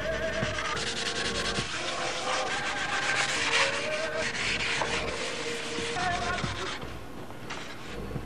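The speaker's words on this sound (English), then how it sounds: "Everything a nice smooth radius with the 400 sandpaper." Steady rubbing of 400-grit sandpaper smoothing the edges of wooden parts, a continuous close scratchy swish with shifting strokes throughout.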